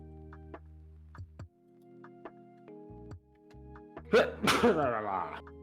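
A single sneeze bursts out at close range near the end, following sparse ticking and soft tonal sounds; no one speaks during it.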